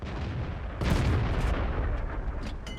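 A Jagdpanzer IV's tank cannon fires in World of Tanks gameplay, one loud booming shot that rolls on with a long rumbling tail, followed by a few faint clicks.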